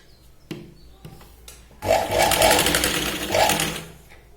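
Close, loud sewing machine stitching tucks into a katori blouse: a few faint taps and handling sounds, then the motor starts and runs steadily for about two seconds before slowing.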